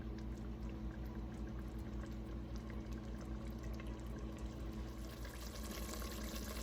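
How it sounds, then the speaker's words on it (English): Pot of water at a slow, rolling boil on a hot stovetop burner, a continuous low bubbling and churning that stays even throughout. "now that's up to like a slow boil, simmer, whatever. It's more than a simmer."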